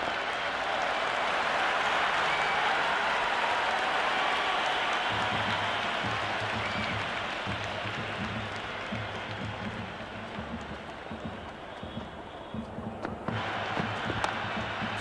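A packed cricket stadium crowd roars during an IPL match between Royal Challengers Bengaluru and Sunrisers Hyderabad. The broad cheering gives way to rhythmic clapping and chanting that carries on steadily to the end.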